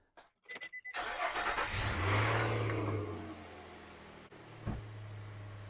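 A car engine is cranked and starts, with a few quick starter pulses leading into a catch and a rev. It then settles to a steady idle, and a brief knock is heard near the end.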